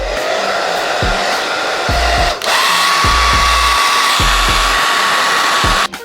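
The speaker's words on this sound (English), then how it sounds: "now you want to take your blow dryer again on a cool setting" A hair dryer on a cool setting blows with a steady whooshing whine, drying wig glue, briefly dipping in pitch before running on, with faint low thumps underneath.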